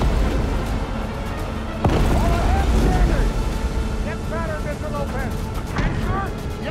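Underwater depth charge blasts from a destroyer hunting a German U-boat in the Atlantic at night, deep booming rumbles with a sharp hit near two seconds, under a narrating voice and dramatic background sound.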